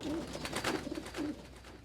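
A pigeon coos softly on a hot summer day near a house, three low rolling coos in a slow rhythm, faint and close with light background noise.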